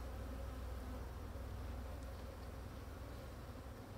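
Hybrid honeybee colony, agitated and defensive at an opened hive, buzzing in a dense, steady drone that holds loud and close throughout with no voices.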